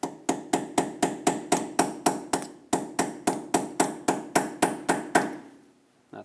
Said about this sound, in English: To lock this in, you want to stake it back down.